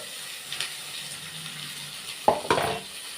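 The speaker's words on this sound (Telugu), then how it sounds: "ఇప్పుడు తాలింపు అయితే పెడుతున్నాను దొండకాయ కర్రీకి" Tempering for an ivy gourd curry sizzles faintly in a pan, with a couple of sharper clinks and a brief burst of frying near the end.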